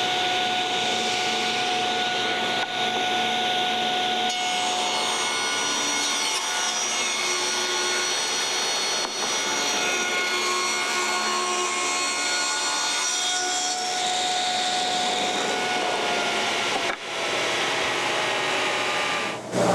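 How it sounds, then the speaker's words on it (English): Saw cutting through a wooden board as a dust extractor runs alongside, a steady loud whine holding for the whole cut with a faint change in tone near the end. "Place the board off to the side and start up the saw."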